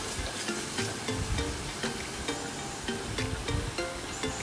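Spice paste for a Bengali boal fish rezala being stirred and fried in oil, a steady sizzle broken by regular scraping strokes of the spoon through the pan.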